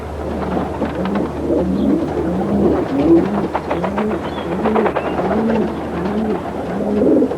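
Pigeons cooing repeatedly in a steady rhythmic series of low, soft, rolling calls, fairly close, over a constant background hiss like rain.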